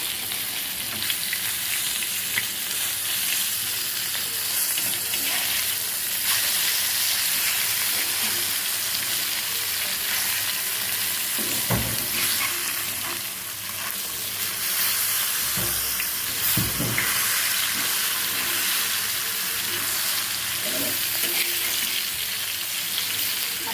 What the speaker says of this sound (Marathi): अशा प्रकारे आपल्याला मस्तपैकी करली की सगळी मच्छी अशीच फ्राय करून घ्यायची